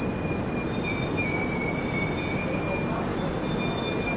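Tourist train set with imperial and panoramic coaches pulling into the station, steady loud rolling rumble with thin high wheel squeal tones held throughout.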